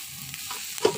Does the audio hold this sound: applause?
no